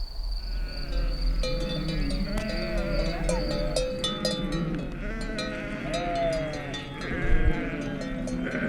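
Ewes from a flock of 330 breeding sheep on a pastoral farm in the Verdon bleat repeatedly, several voices near and far overlapping, over a steady background of insects chirring.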